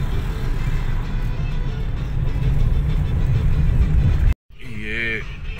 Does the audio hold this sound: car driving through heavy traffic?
yes